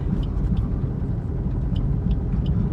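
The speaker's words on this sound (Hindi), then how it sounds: "देखो मेरी कार परफेक्टली चल रही है, कोई भी दिक्कत नहीं आ रही है" A car rolls along slowly with a low steady rumble of engine and road noise, a few faint light ticks and clicks inside the cabin, no talk.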